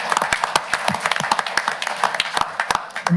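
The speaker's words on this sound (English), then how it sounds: "Can we have a round of applause?" A crowd at a Kershaw County Council meeting applauds with dense, irregular clapping that stays steady throughout, fairly close, with a faint murmur of voices underneath.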